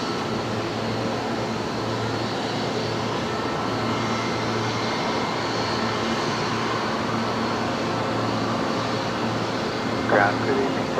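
A Boeing 737 MAX 8 jet taxiing at night at Brisbane Airport, a steady distant engine drone and hum running throughout the clip, with a faint short chirp near the end.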